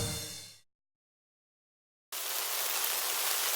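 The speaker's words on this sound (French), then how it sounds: "Oh, il pleut." Steady heavy rain hisses evenly after a brief musical ending and a moment of silence.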